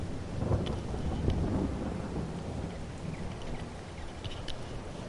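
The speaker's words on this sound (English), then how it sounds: "as soon as this rain stops" Rain and thunder in a farming video game, a steady hiss of rainfall with low rumbling thunder swelling and fading underneath, continuous and fairly quiet.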